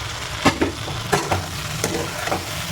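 Chicken pieces for spicy garlic chicken with soy sauce and salt sizzle in a pan, broken by several sharp scraping stirs of a spatula, close and alone with no voices.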